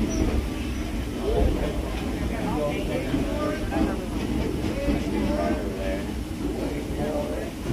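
Low, continuous rumble of a vintage train at Greenfield Village rolling along the tracks, with murmuring voices of people talking throughout.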